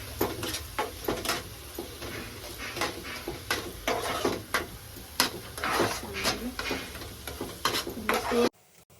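Onion-garlic paste, ginger, masala and coconut roasting in a pan for a fish dish, with repeated scraping stir strokes over a low sizzle, close and fairly loud, cutting off near the end.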